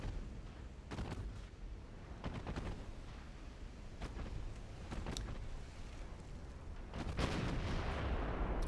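Torpedo detonations in a naval battle in Ultimate Admiral Dreadnoughts, a series of booming, rumbling blasts at irregular intervals over a steady roar of sea and gunfire, growing louder toward the end.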